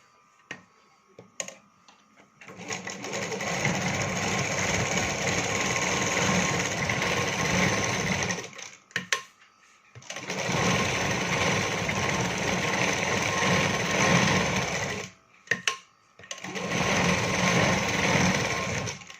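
A sewing machine stitches the lining of a katori blouse in three long runs of fast, steady mechanical whirring, separated by short pauses with light clicks and handling noises, close and fairly quiet.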